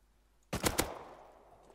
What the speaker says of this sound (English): But why are you shooting, Dan?